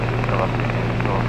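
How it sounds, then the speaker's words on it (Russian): Helicopters flying near an airfield in Slovakia, a steady rhythmic rotor chop over a low droning hum, moderately loud through the whole brief moment. "Это эти опять вертолеты"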